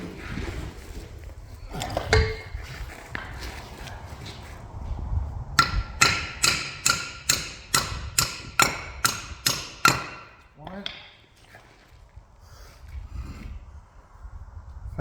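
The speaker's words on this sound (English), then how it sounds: "So I'm just going to get these wheel studs tapped back through." Hammer tapping wheel studs back through a brake disc on an Iveco 75E15 horsebox rear axle hub, about ten sharp, evenly spaced metallic strikes in a steady rhythm, close and loud, with workshop clatter before and after.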